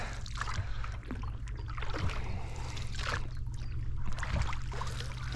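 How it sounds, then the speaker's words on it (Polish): Oars work a small rowboat on a fishing lake in spring, with soft rhythmic splashing strokes repeating about once a second, close and quiet, with no talk. "Już 9 lat bez silnika. Na wiosełkach, na mniejszych, na większych wodach."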